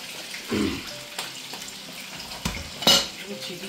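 Fish fries in a pan during home cooking of Bengali dishes, with a light sizzle beneath a few scattered clanks and scrapes of a utensil stirring and turning the pieces.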